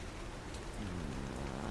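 Steady rain pours down on a street, a dense even hiss with no pauses, loud and close throughout.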